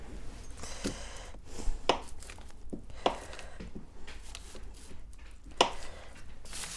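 A knife chops on a cutting board in a handful of irregular, close, crisp strokes with quiet pauses between them.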